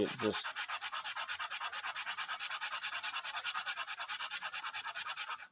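Steady rhythmic sanding of a compressed-sawdust knife handle, quick back-and-forth strokes of abrasive on a hard surface, close and continuous with no talking.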